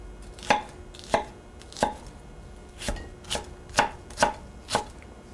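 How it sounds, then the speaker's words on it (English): A kitchen knife dices an onion on a cutting board: about eight crisp, evenly paced chops ring out close and clear, with short quiet gaps between strikes and no talking. "this way when I'm dicing an onion"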